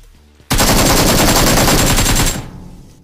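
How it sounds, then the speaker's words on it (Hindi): Sustained automatic gunfire in the mobile battle royale game BGMI (PUBG Mobile): one loud, rapid burst of about two seconds that stops abruptly, with quiet before and after. "इतने में गोली चलने की आवाज आती है"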